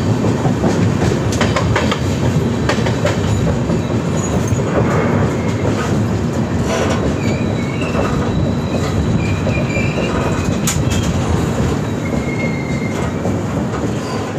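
Train 13009 runs overnight toward Haridwar with a loud, unbroken rumble and clickety-clack of the wheels, plus brief squeals from the wheels, heard from inside with no voices.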